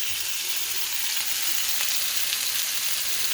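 Scallops searing in garlic brandy butter give a steady, close, bright sizzle that hisses evenly and without a break, with no talking over it.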